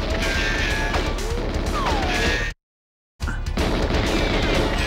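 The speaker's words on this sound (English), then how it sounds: "There's a grenade, though. There was a grenade." Explosions and gunfire in GoldenEye 007 on the Nintendo 64: dense, continuous crashing bursts and rapid shots at high level, broken by a brief moment of complete silence before the racket resumes.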